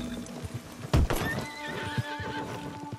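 A horse in Red Dead Redemption 2 gallops away with rhythmic clip-clop hoofbeats and a clear neigh, the footfalls steady and fairly close before receding.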